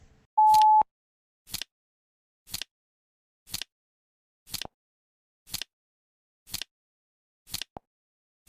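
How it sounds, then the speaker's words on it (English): A timer sounds one long steady tone, followed by a regular series of eight short sharp beeps about one second apart, loud and clear against silence. "The timer is up."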